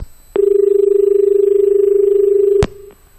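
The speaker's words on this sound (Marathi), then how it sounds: "तत्पूर्वी एक फोन आलेला आहे." A telephone call tone sounds as a caller phones in to a talk show: one loud, steady, unbroken tone holds for about two seconds, then cuts off with a click, leaving a fainter trailing tone.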